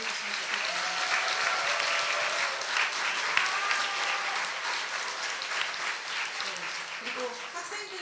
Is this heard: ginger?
no